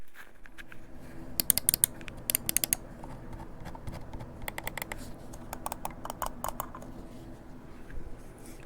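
A SteelSeries Prime Mini Wireless mouse with optical switches clicks up close in quick crisp bursts, several rapid clicks grouped together and then scattered single clicks, sharp and distinct over a quiet background.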